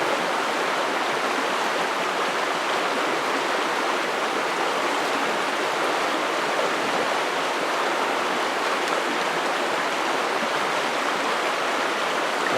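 A swift river current rushes in a steady, dense broadband wash, loud and close, with no breaks or voices across the whole stretch.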